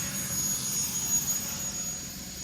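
Car engine idling steadily at around 1000 RPM, a low continuous hum with a faint high whine, heard alone and fairly quiet.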